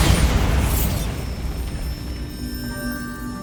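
A Bombarda spell blast in Hogwarts Legacy: a loud, booming explosion right up close that hits at once and rolls off into a long rumbling, crackling decay.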